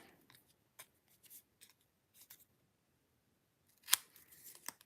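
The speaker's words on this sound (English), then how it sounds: "I'm just going to use my paper snips, and I'm going to just snip this as straight as I can" Paper snips cut through card paper in a quiet room, giving a few soft, scattered snips followed by a sharper, louder cut and a rustle near the end.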